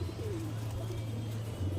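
Young pigeons coo softly near a rooftop loft, low repeated throaty calls over a steady low background hum, with a faint chirp mixed in.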